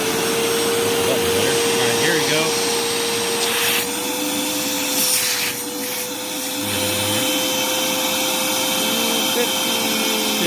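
A Rainbow D4C AquaMate or Eureka Lightspeed vacuum cleaner runs steadily with a loud, constant whine and a droning motor, its pitch dipping briefly midway, while a person talks faintly in the background.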